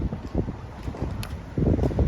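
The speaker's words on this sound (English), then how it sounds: "it's a little windy" Wind buffets the microphone in low rumbling gusts on an outdoor pickleball court, with a faint watery slosh and a few light knocks in the background.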